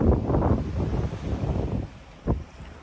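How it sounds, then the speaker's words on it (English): Gusty wind buffets the microphone over the wash of choppy waves on a rough sea, with light rain spitting and one brief splash or thump near the end. "the sea's a bit rougher today"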